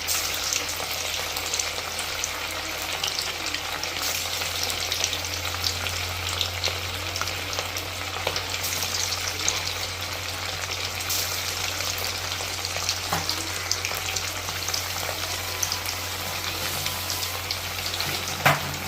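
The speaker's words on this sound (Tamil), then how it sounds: "நம்ம சிக்கன் ஒன்றா போட்டு பொரித்து எடுத்துக்கலாங்க" Chicken pieces fry in hot oil for a chicken biryani, giving a continuous loud sizzle and crackle that stays steady throughout with no voices.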